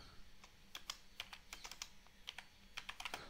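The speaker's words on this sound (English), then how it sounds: "Okay, I am just typing" Computer keyboard typing during a Python Tkinter text-box demo: an irregular run of crisp, close key clicks with brief pauses, over a faint low hum and no speech.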